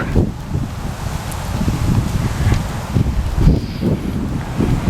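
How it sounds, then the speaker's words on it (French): Wind buffets the microphone in a continuous low rumble, gusting and rustling throughout without any voices. "Du vent, ça fait du bien."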